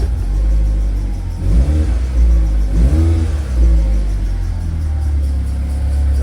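A car engine being revved while warming up after serpentine belt work: a steady loud idle rumble broken by two or three rising revs that climb and fall back, close by with no talk.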